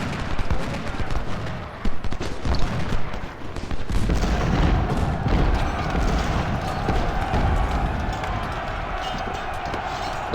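Cannon and musket fire in Ultimate General: Civil War, a dense rolling barrage of booms and crackling volleys that continues throughout, loud and close, with no break.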